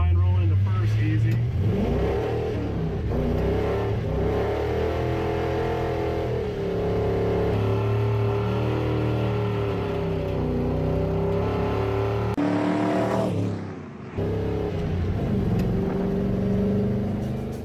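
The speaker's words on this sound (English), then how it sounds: "why don't you ever do a pull in the truck? I guess we'll do one today" A truck engine revs hard through a full-throttle acceleration pull after rolling gently into first gear. The roar climbs through the gears with a brief dip near the end, loud and close, while people talk over it.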